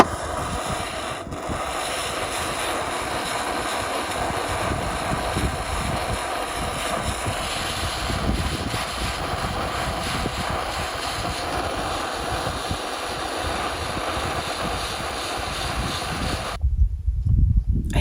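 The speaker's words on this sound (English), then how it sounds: "think it's too windy." Heavy, constant wind buffeting a microphone at a Nevada hot spring, a loud low rumble with no pauses that cuts off abruptly near the end.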